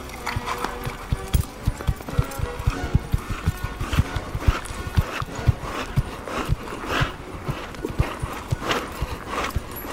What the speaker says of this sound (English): the piaffe, a shortened trot performed in place